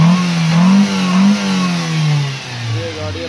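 Toyota pickup with an engine misfire and power loss revving and accelerating while driving, a close, loud engine drone rising and falling in pitch, with no talk.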